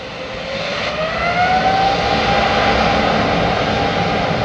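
A Boeing 777 departs close by. A loud, steady jet engine roar builds quickly, with a rising whining tone running through it.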